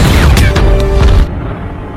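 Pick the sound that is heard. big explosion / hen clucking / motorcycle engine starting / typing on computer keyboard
big explosion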